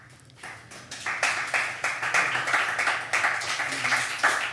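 An audience applauds after a poetry reading: a burst of many hands clapping that swells quickly and holds steady, moderately close and without talk.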